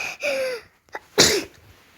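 A girl sneezes once, close and sharp, after a brief inhaled gasp and a high vocal sound, in a short quiet moment with no talking.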